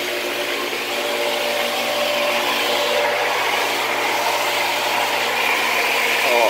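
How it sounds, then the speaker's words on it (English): A pool cleaner booster pump runs with a steady, loud motor hum and broadband rushing noise that holds constant throughout. "this one is for the booster pump, the cleaner"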